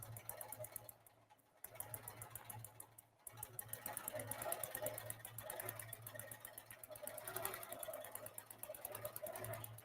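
A sewing machine runs slowly during free-motion quilting, its needle giving a steady rhythmic hum and tick that is fairly quiet and near. It stops briefly twice early on, then runs on without talk.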